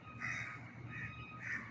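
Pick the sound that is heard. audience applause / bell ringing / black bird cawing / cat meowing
black bird cawing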